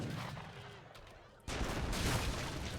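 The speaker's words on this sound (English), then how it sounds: "2 villagers getting headshotted by a Papal bombard" A Papal bombard cannon fires in a strategy video game, striking villagers: a sudden loud, broad blast that bursts in midway and stays as a dense, rumbling roar after a quieter stretch of ambient battle noise.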